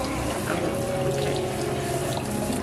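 Steady stream of tap water running into a sink during a hair wash, a continuous close rush with no talking over it.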